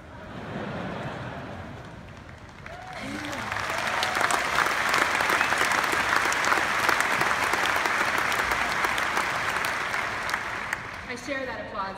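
Audience applause at a Cisco GSX corporate event in Las Vegas, building from scattered claps into a loud, sustained ovation that holds for several seconds before tapering, with brief speech-like sounds at the start.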